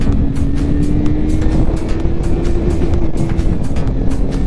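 Motorcycles, a Benelli 600i and a 310R, accelerate hard in a drag race, giving a loud, sustained engine roar with a rising tone and no pauses.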